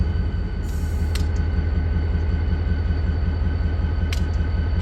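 A GP39-3 diesel locomotive engine starts up and rumbles steadily at idle, a deep continuous drone with a few brief hissing bursts of air.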